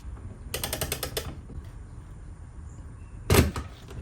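Ratchet wrench tightening the case nut on a small engine during reassembly, heard as two short bursts of rapid clicking, a longer run early on and a brief louder burst near the end, close by and with no talking.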